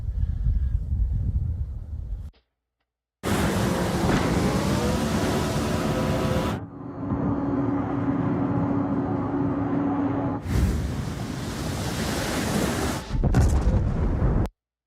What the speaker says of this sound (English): Oh, shooting tanks.